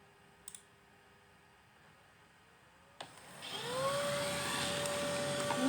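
A Samsung Jet Bot AI+ robot vacuum cleaner starts up with a click and spins up into a steady, loud motor whine and broadband airflow hiss, with a rising tone as it gets going, close by and without talk.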